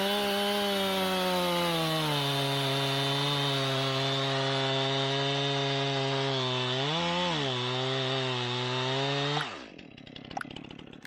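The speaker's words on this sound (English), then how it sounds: "Today we'll be using the trusty MS-291. I like that chainsaw." A Stihl MS-291 chainsaw runs loudly and steadily through a tree limb, its engine pitch dipping briefly mid-cut before it cuts off near the end.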